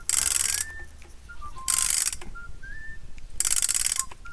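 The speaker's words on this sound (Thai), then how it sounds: "เสียงมันจะดังแก๊กแก๊กแก๊กแก๊กนี่ครับ คือเราทำการไขลานแล้ว" The winding key on a wind-up lantern is turned, giving three dense bursts of rapid ratcheting clicks close up, separated by short pauses with faint mechanical whistling tones.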